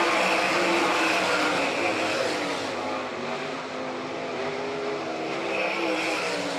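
All Stars and NCRA sprint cars race wheel to wheel on the Doniphan, Nebraska dirt track, a loud, continuous, layered engine roar that swells slightly and then settles at a steady howl.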